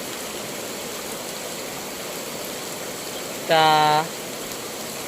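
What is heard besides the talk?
rain falling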